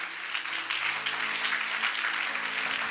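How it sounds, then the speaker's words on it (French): A church congregation applauding during a sermon, a steady wash of many hands clapping throughout, fairly loud and even, with a faint voice underneath. "Acclame pour le Seigneur bien-aimé."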